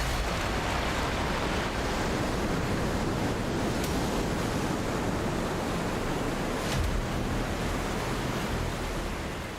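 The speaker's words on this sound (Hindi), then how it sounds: "आप इस तेज बहती नदी की आवाज सुन सकते हैं" Roaring, fast-flowing Alaknanda river pouring from the mouth of a glacier, a loud, dense and unbroken rush of water close by that holds steady throughout.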